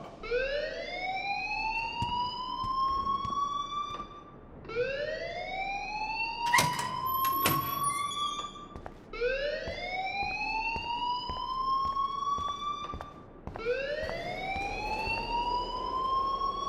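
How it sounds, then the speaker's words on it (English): A fire alarm rings inside the video game Life Is Strange, sounding as four long rising electronic wails, each sweeping upward for about four seconds before restarting, loud and steady, with a short clattering burst in the middle. "please turn off that alarm since that's your job"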